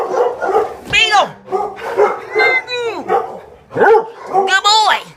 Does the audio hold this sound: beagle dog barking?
yes